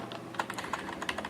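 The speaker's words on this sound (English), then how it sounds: "I'm pressing Control C on my keyboard very loud" Keyboard keys clack in a short run of taps, several sharp clicks over a quiet background hum.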